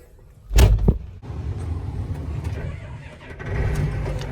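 A Traco tractor engine starts with a short burst of cranking, then settles into a steady low rumbling idle, close by and fairly loud, swelling slightly toward the end.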